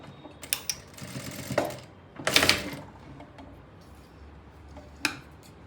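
A domestic sewing machine stitching a blouse runs in short bursts, a rapid mechanical chatter starting and stopping, with a sharp click or tap near the end.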